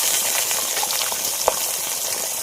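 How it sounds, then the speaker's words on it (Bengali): Belly pieces of fish frying in hot oil, a steady dense crackle and sizzle throughout, with a single sharp tap partway through. "পেটের মাছগুলোই লাস্টে ভাজা হচ্ছে"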